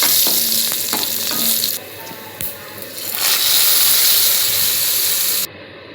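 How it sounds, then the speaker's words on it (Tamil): Asafoetida, homemade vadagam and curry leaves sizzle as a tempering poured into fish curry, a loud steady hiss of frying with brief stirring clatter. The sizzle drops away partway, then surges back before cutting off near the end. "பெருங்காயம் போட்டு எங்கள் ஸ்பெஷல் வடகமும் கருவேப்பிலையும் போட்டு தாளித்து கொட்டினா"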